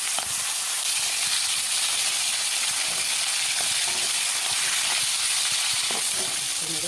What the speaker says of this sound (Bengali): তেল গরম হয়ে গেছে, আমি এক এক করে মাছগুলো দিয়ে দিচ্ছি।